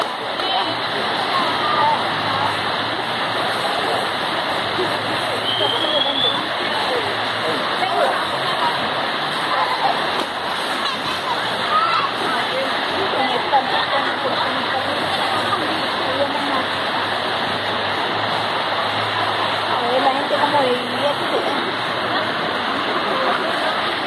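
The Meléndez river at La Fonda rushes steadily past as a broad, continuous hiss of flowing water, loud and close, with no break for the whole stretch.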